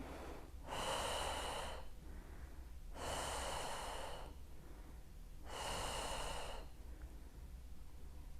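Slow, heavy breaths in and out during a pregnancy cardio exercise, three long airy exhales spaced evenly, close to the microphone with no talk over them.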